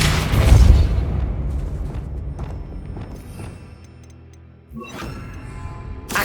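A Bombarda spell goes off in Hogwarts Legacy as a loud, close, booming blast, followed by a rumbling tail and scattered debris crackles, then a second sharp burst near the end. No one speaks.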